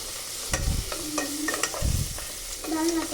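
A spatula stirs a paneer capsicum fry in a hot pan, with several close scraping strokes over a steady sizzle.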